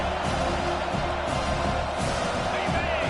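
A home crowd roars at a college football game as the defense faces third down, a dense, continuous wash of cheering and shouting with a voice talking over it.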